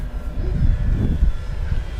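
A Dynam PT-17 RC model biplane with a dummy radial engine makes a fast touch and go on the ground, its electric motor drone steady and close, with rumbling ground noise and surges of the motor over about two seconds.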